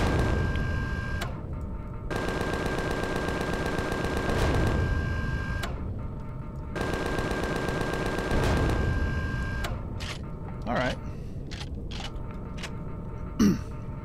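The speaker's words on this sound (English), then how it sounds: "Something did actually shoot at us," Rapid gunfire in the space survival video game Empyrion Galactic Survival comes in long sustained mechanical bursts, with short pauses between them, then a few sharp isolated impacts near the end.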